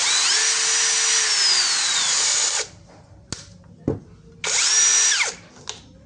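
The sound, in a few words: D.WE cordless brushless 21V drill running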